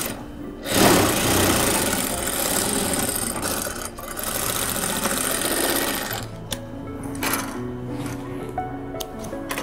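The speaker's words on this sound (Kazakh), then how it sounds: "тігіп аламыз." A sewing machine stitches the side seams of a dress in a steady mechanical whir, running close and loud with brief pauses and shifts in speed.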